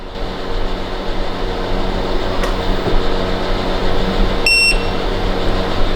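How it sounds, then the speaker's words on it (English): A standing desk finishes calibrating with a short, clear electronic beep near the end, sounding over a steady whirring hum of the desk motor and room noise. "You hold the down arrow until I guess it beeps, and then the calibration's done"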